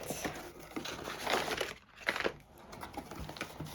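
Sticker peeled off packaging and crinkled during a Black Friday unboxing haul, close crackling and tearing rustles in uneven bursts with a brief pause midway.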